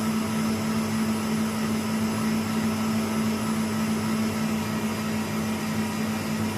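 Electric mixer whipping a pumpkin-apple marshmallow mixture, giving a loud, steady, close motor whine that runs unbroken throughout.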